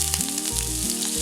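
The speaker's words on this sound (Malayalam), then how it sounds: "ഇതിലേക്ക് 1 ടേബിൾ സ്പൂൺ ഇഞ്ചി കുഞ്ഞായിട്ട് അരിഞ്ഞത് ഇട്ട് കൊടുക്കാം." Finely chopped ginger dropped into hot oil in a pan gives a loud, close, continuous sizzle with no talking.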